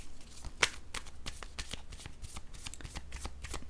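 Tarot cards are shuffled by hand in a run of soft, rapid riffling flicks, close and fairly quiet, with no one speaking.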